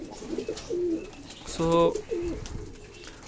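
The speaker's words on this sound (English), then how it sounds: "All my pigeons are here, this breeding section" Pigeons in a breeding loft cooing, with several soft rolling coos and one louder, nearer burst in the middle, while someone speaks briefly.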